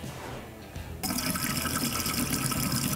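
Water rushes on abruptly after a quiet second, a steady broadband hiss of flow filling a newly installed reverse osmosis water treatment system, continuing loud and even to the end.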